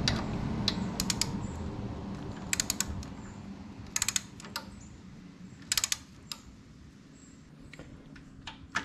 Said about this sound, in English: Once that new bolt is in, grab your torque wrench, and it's going to be calling for 110 Newton meters